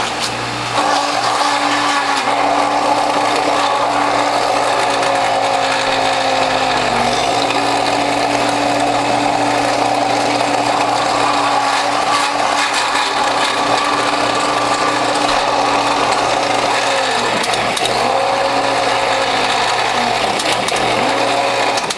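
A juicer motor grinds through fibrous beet tops and greens, a loud, steady mechanical whir with a faint ratcheting texture and brief dips in load, close and uninterrupted.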